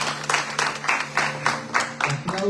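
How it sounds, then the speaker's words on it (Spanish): A church congregation at a Sunday service claps to welcome visitors, a short, fairly loud burst of scattered clapping in uneven pulses, fading toward the end. "aplauso"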